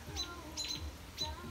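Parent birds defending fledglings that have landed on a deck give three sharp, high chirps spaced evenly over a second and a half, moderately close over quiet background noise.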